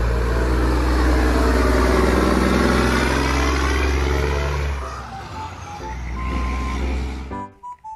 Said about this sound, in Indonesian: Di sini ada mobil truk tangki.